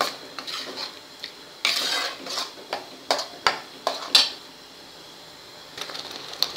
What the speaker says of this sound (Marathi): याच्यावर हे बघा मी झाकण ठेवते